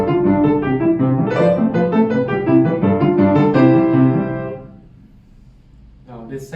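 A piano repeats the first theme of Casella's Galop Final, a Grade 6 exam piece, with brisk, dense chords and melody for over four seconds before it fades, followed by a short faint sound near the end.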